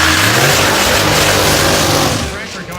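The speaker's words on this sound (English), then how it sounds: "As he begins to spool up those turbos, the black smoke will begin to belch from the exhaust pipe as he begins his burnout." A diesel dragster with turbos spooling revs hard during a burnout at a drag strip, its engine a loud, sustained roar that fades slightly at the end, with voices faintly present underneath.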